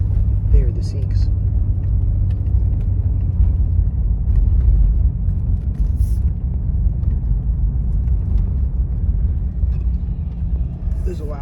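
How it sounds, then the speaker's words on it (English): A loud truck towing a trailer drives past on a road, giving a steady heavy low rumble throughout with faint traffic noise around it. "There's a loud truck with a trailer right now."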